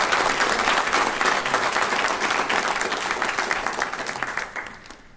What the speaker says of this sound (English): I'd like to pause now and ask for a round of applause for these outstanding employees who have attained 40 years of service